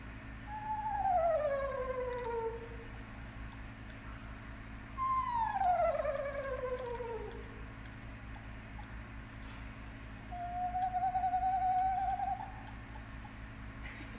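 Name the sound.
eastern screech owl trilling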